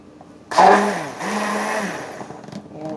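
A hair lotion mixture is stirred with a motorized mixer, a loud whirring blend that starts abruptly about half a second in and runs steadily for a couple of seconds before easing off.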